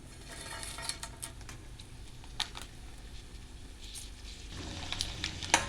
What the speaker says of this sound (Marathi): यामध्ये आपण आता जिरं टाकून घ्यायचं आहे, थोडी राई टाकून घ्यायची आहे, लाल मिरची पण टाकून घ्यायची